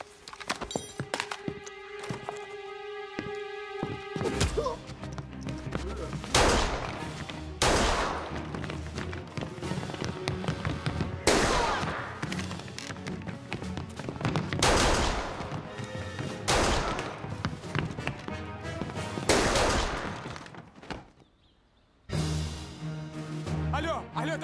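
Gunfire during an attack in a 2008 Russian film: after a few seconds of sustained musical tones, loud irregular shots burst repeatedly, with voices mixed in, a short lull near the end, then more noise.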